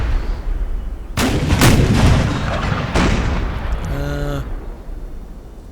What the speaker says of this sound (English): It's looking like he's going to win the artillery duel.